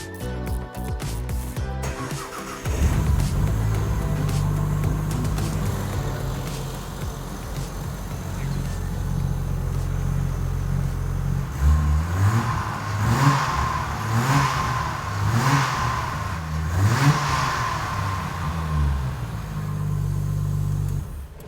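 A Fox Body Mustang with a newly installed engine runs at a loud, rough idle. It then blips through a series of sharp, repeated revs, rising and falling in bursts before it settles again, close up with little speech.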